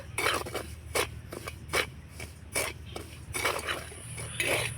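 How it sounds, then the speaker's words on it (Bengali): Semolina is stirred as it dry-roasts in a wok, a utensil scraping and clinking against the metal in irregular bursts, close and fairly quiet over a low background hum. "সুজিটা একটু শুকনো খোলায় নাড়াচাড়া করে দু মিনিটের মতো ভেজে নেব"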